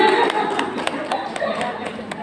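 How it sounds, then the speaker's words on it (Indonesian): A handful of people in a classroom-style session clap briefly, the separate, sharp hand claps standing out over a murmuring room. "Tepuk tangan."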